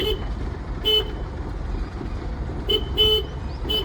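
A car horn toots in short bursts, several quick honks spaced through the clip over a steady rumble of road traffic.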